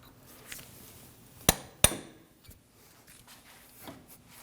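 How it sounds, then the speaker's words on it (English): Two sharp metallic hammer blows strike a punch against the CV axle of a 1993–2001 Subaru Impreza 2.2L H4, ringing close and loud amid quieter clinks and shop noise. "Now we'll free up our axle with a punch and a hammer."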